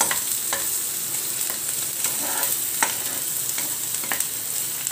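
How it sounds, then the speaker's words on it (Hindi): Garlic frying and being stirred in a pan for veg momos, with a steady close sizzle and several sharp scrape-clinks of the spoon at irregular intervals; no voices. "और थोड़ा सा लहसुन डालते हैं, थोड़ा सा नहीं, थोड़ा सा ज़्यादा, मिक्स कर लेते हैं"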